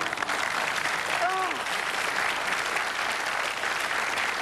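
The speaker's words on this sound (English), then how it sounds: "I'm not buying the insincere pity applause you just gave her" A studio audience gives steady, sustained applause on a game show, a dense even wash of clapping that holds without a break.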